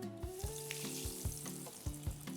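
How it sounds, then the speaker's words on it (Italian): Rice and cheese croquettes fry in hot oil with a steady close sizzle and crackle, joined by rhythmic clinks and knocks from stirring or handling, and no voices. "E andiamo a friggere questi scrigni."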